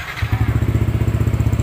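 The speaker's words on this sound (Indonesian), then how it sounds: "Oke, ini mesin sudah hidup" A Yamaha N-Max scooter engine starts with a brief crank, then settles into a steady, close, rhythmic idle with regular low pulses and a light mechanical clatter, running alone after a roller housing bolt repair.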